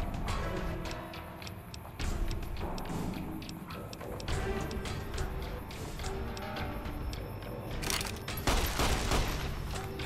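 Gunfire from a weapon in the Fallout New Vegas video game, a dense burst of shots and impacts layered over game sounds and music, with a louder flurry near the end.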